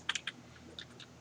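A handful of faint, crisp keystrokes on a computer keyboard, spaced unevenly, while editing a local DVD repository file in vi on CentOS; quiet room with no talking.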